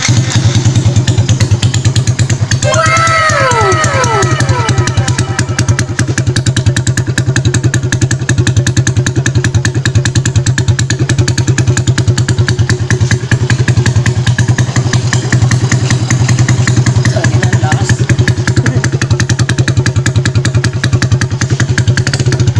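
An open-pipe motorcycle exhaust idles loudly and steadily close by, a rough, continuous drone throughout with a brief high chirp early on and no speech.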